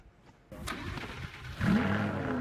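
A car engine in the Roblox Vehicle Simulator video game starts and then revs, rising in pitch and loudness to a sustained higher roar near the end.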